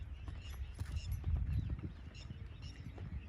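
A mare in training walks with a single-foot gait. Her hooves make soft, steady clip-clop steps at a distance, over low rumbling background noise and faint creaks of tack.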